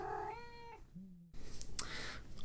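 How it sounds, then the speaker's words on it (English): A cat lets out a long, drawn-out meow that bends downward in pitch, then a short low trailing mew, close and clear, followed by indoor rustling and clatter. "that's my cat. Shut up, cat."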